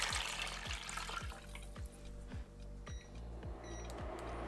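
Cold water runs into a pot of pork ribs and trotters with salt and white onion for parboiling. A soft, steady splashing stream sits under a faint, regular low clicking.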